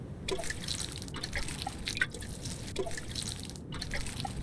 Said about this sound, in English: Let's water everything.